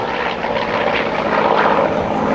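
A Corsair propeller fighter-bomber of the French navy flies past with a loud, steady, droning roar of its piston engine and propeller, sustained and broadband throughout, with no speech.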